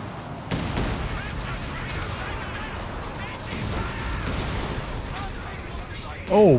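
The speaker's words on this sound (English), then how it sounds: "massive main gun hits" Tank main gun hits and gunfire in the strategy game Company of Heroes 3: sharp booming impacts and scattered shots over a continuous battle din, with a commentator talking over it and a louder tonal effect at the end.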